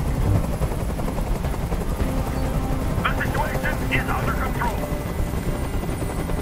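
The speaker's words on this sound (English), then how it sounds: "Tell that helicopter to get out of here!" Loud, steady helicopter rotor roar from a hovering helicopter in the video game Detroit: Become Human, filling the whole clip, with someone shouting briefly over it midway.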